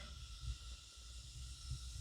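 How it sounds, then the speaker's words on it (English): Olive oil sizzles in a hot pan while Bulgarian poached eggs with paprika are being prepared, a faint, steady hiss with a couple of soft low bumps. "You can see that it's sizzling."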